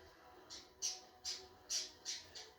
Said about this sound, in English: Sorry, my bird is making lots of noise.